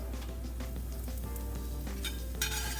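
Eggs with melting cheese frying in a pan give a steady, close sizzle throughout, with a few faint utensil clinks near the end and no talking.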